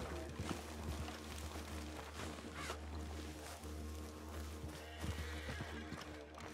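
A horse neighs in a video game, its whinny rising over a dense, steady game soundscape with hoofbeat-like clip-clop and ambient texture throughout.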